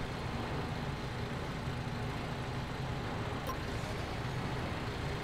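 A truck engine idles and rumbles steadily in Construction Simulator 3 on PS4, a constant low mechanical drone with broadband noise that holds level throughout, with no speech over it.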